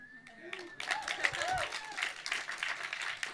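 An audience at a graduate thesis symposium claps and cheers in a busy crowd burst, with whistles and voices mixed in among the scattered clapping.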